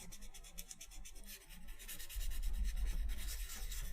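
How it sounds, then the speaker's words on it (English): Continuous back-and-forth strokes of sanding a sculpture rub close by in an even rhythm, growing slightly louder and heavier midway. "Sanding sounds fine, so it's not like crazy or anything?"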